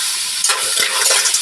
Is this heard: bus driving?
no